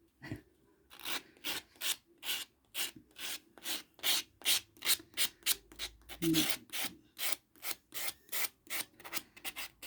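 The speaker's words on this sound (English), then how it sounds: "Buff until you get a nice smooth finish." Rapid rhythmic rubbing strokes of a nail buffer on fingernails, a dry scratchy swish repeated back and forth at a steady fast pace, close and fairly loud.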